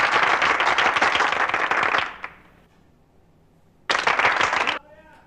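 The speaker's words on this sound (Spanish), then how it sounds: "Muchas gracias por esos aplausos" An audience applauds Olmedo López during an interview with Vicky Dávila: a loud, dense burst of clapping for about two seconds, a near-silent pause, then a second shorter round of applause.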